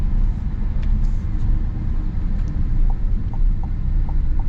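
A 2025 Chevy Silverado ZR2 Bison pickup with a Duramax diesel engine driving on the road, heard as a loud, continuous low engine and road rumble from inside the cab, with no speech.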